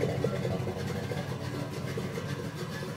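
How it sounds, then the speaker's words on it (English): A 1975 Caprice Classic convertible's small-block 406 V8 idling with a deep, steady rumble, running evenly and close up without a break. "she's idling real nice, man"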